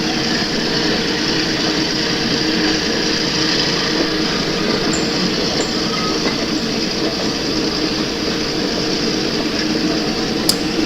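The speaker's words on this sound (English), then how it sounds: "And yet another freight north towards Selkirk goes by." A model railroad freight train rolls steadily past with a continuous rumble and faint clicking wheel noise across about eleven seconds, and a sharp tick comes near the end. No voices are heard.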